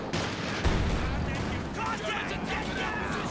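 Double anti-tank guns in Company of Heroes 2 firing on tanks, one sharp boom followed by rumbling battle noise and distant blasts, partly under a voice talking.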